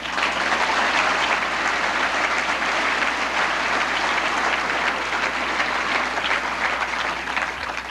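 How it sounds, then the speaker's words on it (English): A theater audience breaks into steady, dense applause that holds at a strong, even level for several seconds before easing slightly at the end. "I got an applause on that."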